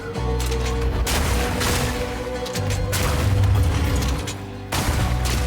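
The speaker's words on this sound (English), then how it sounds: "It is nice to be able to like shatter the frozen stuff. Causes a nice little explosion there." Frozen enemies shatter in Path of Exile 2 amid dense, loud combat, with a rapid barrage of booming impacts and bursts that keeps up without a break, dips briefly, then slams back in near the end.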